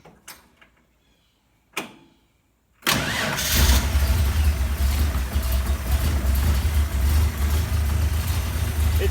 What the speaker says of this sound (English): So let's see if it'll start.